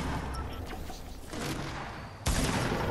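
Gunfire in an online shooter video game, a steady crackle of distant shots with a sharper, louder burst near the end, heard alone without talk.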